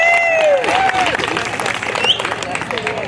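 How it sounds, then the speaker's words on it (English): Audience applause at a senior center car show gathering, a brief burst of clapping mixed with crowd noise while a voice talks over it. "Can we hear some applause?"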